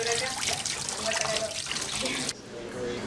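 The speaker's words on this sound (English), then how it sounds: "Solar energy is used to pump water from a well." A solar-powered pump draws water from a well, giving a steady loud rush and trickle of flowing water that continues under a voice talking.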